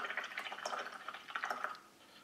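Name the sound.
rinsing a paint brush in water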